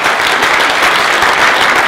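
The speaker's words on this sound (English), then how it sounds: "Give yourselves a round of applause." Conference audience in Lethbridge applauding themselves, a brief, loud burst of dense, uniform clapping filling the room.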